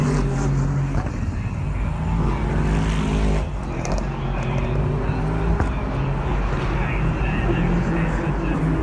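Race cars pour on speed down the back straightaway at Road Atlanta, a continuous, heavy engine drone with a low rumble that stays steady throughout, loud and close.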